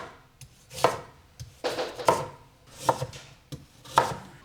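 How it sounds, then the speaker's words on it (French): A knife slices peeled sweet potatoes into rounds on a board, four distinct crisp chops spaced about a second apart, close and clear with no voices. "ensuite, on va tout simplement les couper en rondelles"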